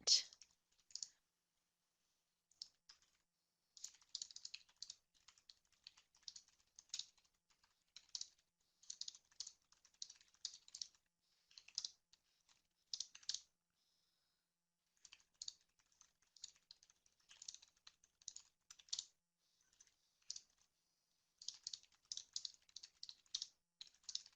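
Typing on a computer keyboard, quiet rapid clicking bursts of keystrokes with brief pauses between, close and faint, with no talk over it.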